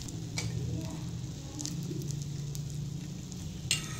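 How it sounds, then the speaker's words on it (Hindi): Egg-dipped bread pieces frying in cooking oil over a low flame, a steady close sizzle with light crackles and a few soft clinks of utensils, no voices. "ब्रेड पीस को अच्छे से डिप करने के बाद अंडे में मैं ऑयल में रख दूंगी इसे अच्छे से फ्राई करने के लिए"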